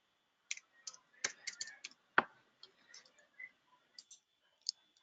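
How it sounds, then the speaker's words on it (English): Keys clicking on a computer keyboard during an online webinar, quiet irregular taps in short bursts, heard alone with no talk. "I think Mary's typing."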